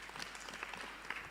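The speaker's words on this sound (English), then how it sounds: "Come on, one more hand clap for him." Audience applause and hand clapping at a church youth gathering, a dense, steady wash of many hands filling the whole moment without a break.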